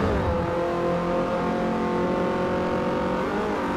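Race car engines in Forza Motorsport 4 during a Mazda Masters online race, a loud continuous roar with rising and falling pitch as the cars accelerate around the track.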